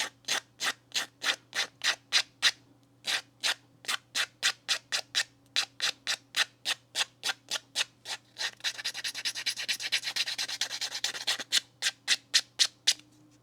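Sandpaper rubs over balsa wood in steady rhythmic strokes, close and loud, with a brief stretch of continuous scrubbing before the strokes resume.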